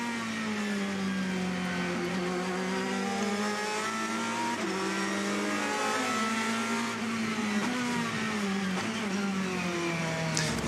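Race cars at the 2014 24 Hours of Le Mans, including a Corvette, roar steadily with shifting engine pitch and some tire noise, a continuous loud track soundscape without talk.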